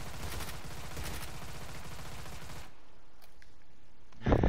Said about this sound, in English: More gunshots.